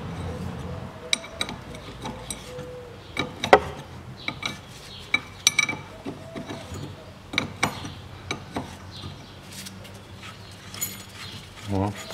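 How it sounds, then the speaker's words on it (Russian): A seized nut on the steering rack of a 2007 Toyota Camry XV40 2.4 is unscrewed, giving irregular metallic clicks, scrapes and ratcheting taps up close, with brief low speech in places. "Выкручиваем вот эту гайку."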